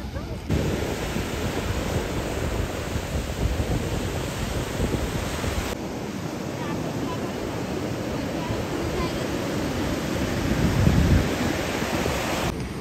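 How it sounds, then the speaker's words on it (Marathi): Sea waves breaking on Ganesh Ghule beach near Ratnagiri: a constant broad roar of surf with wind rumble across the microphone, swelling louder toward the end, no voices. "केवढा भारी समुद्र आहे पहा."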